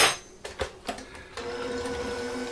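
Half a cup of milk poured into pudding mix for a Halloween dirt cake gives a steady, close liquid rush after a few soft knocks and splashes.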